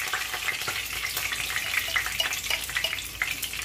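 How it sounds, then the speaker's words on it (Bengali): Curry leaves crackle and sizzle in hot oil during tempering for a Bengali home-cooked dish, a dense, bright spitting hiss with quick pops running continuously and fairly close. "তো দেখো কারি পাতা দিয়ে দিলাম তেলে"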